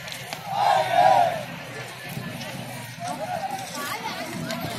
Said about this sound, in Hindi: काफी भीड़ है